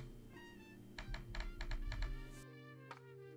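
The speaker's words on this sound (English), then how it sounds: "This will pop up a virtual keyboard that you can then type on with your fingers." Fingers tap a Steam Deck's virtual on-screen keyboard in a quick run of about eight soft taps over a steady low hum. A single tap follows after a brief pause.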